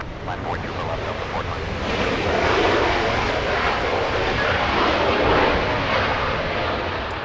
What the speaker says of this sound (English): The Spirit of Canada, WestJet 1101 flying to Toronto. 16 years of age for that one, getting a move on. A 737-700.